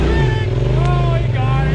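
A side-by-side UTV throttles hard up a snowy hill. Its loud, close engine drones continuously, and the pitch rises and falls slightly as it pushes through.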